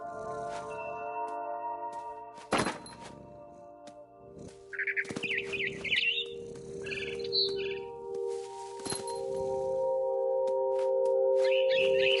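A frightened bird chirps in short bursts of high tweets over a steady ambient hum in the narrative game What Remains of Edith Finch, the calls coming in scattered clusters with small thumps between them.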